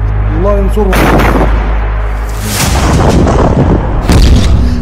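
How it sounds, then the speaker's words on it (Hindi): A loud explosive boom from a Hamas attack on an Israeli Merkava tank, a heavy blast with rumbling aftermath, followed by further booming impacts near the end. "इस तरह इजरायल के शक्तिशाली टैंक मरकाबा पर हमास करता है बड़ा हमला।"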